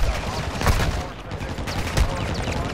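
Bursts of gunfire crack in Call of Duty as repeated shots and rattling volleys, loud and close, with players talking over the shooting.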